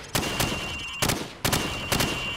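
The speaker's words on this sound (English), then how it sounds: "Now, shoot at the targets while firing from the hip." A rifle fired from the hip at range targets in Call of Duty 4, with four sharp, loud reports in quick pairs, each followed by a short echoing tail.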